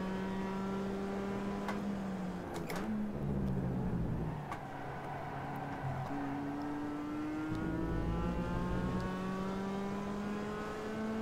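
Mazda MX-5 race car engine in iRacing at Laguna Seca, rising and falling in pitch through gear changes, loud and continuous with a brief squeal and downshift blips, no talking.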